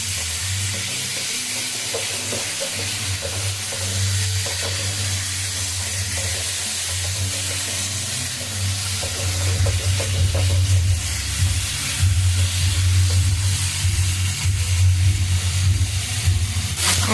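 Nigella seeds and sugar fry in a pan with a steady, close sizzle and crackle that grows a little louder toward the end, over a low constant hum.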